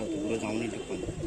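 Low, soft cooing from pigeons kept for sale as standing-quality birds murmurs through a busy, muffled background, faint and continuous.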